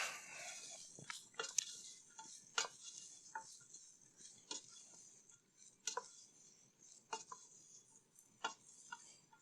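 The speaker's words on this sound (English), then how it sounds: "Give it a good stir." A spoon scraping and clinking against a pan while chicken curry for a Punjabi dish is stirred, sparse irregular taps and scrapes, quiet and close, with no voices.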